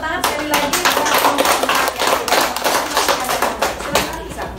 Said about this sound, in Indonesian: Kalau gitu tepuk tangan sekali lagi